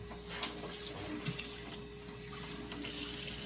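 Water runs steadily from a sink faucet as a blender jar is rinsed out, a continuous close splashing hiss that holds for the whole stretch with slight swells, and no voices over it.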